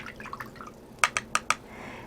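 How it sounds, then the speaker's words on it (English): A number 2 watercolor brush dipped and swished in a water container, giving soft splashy dabs early on, then four sharper, close taps and plinks in quick succession, with no speech. "Now, I have my number 2 brush here. I'm going to wet it."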